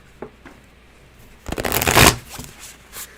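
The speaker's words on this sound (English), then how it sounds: "there I go shuffling on that table again" Tarot cards are shuffled on a table: a couple of soft taps, then a loud riffling burst of about half a second, followed by quieter flicks and settling cards.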